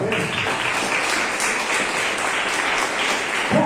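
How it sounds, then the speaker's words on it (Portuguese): A church congregation at a worship service claps in a warm, continuous round of applause, loud and near, holding steady before a brief lift at the end. "uma linda salva de palmas"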